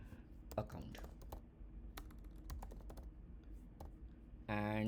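Typing on a computer keyboard to enter a username, a quick run of light, irregular key clicks up close, with a louder burst of noise near the end.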